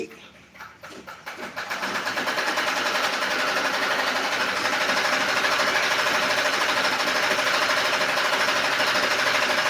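A sewing machine used for tailoring work starts up and then runs in a steady, rapid stitching whir with an even mechanical pulse, close and loud throughout.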